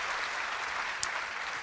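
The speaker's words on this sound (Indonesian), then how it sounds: "Beri tepuk tangan bagi dia." A church congregation claps together during a sermon, a steady wash of applause lasting the whole moment at moderate volume with no talk over it.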